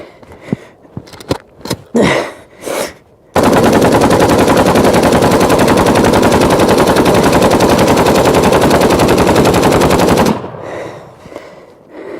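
A Kalashnikov rifle fires several quick single shots, then unleashes a loud, continuous automatic burst lasting about seven seconds. Sharp echoing cracks follow, as if outdoors.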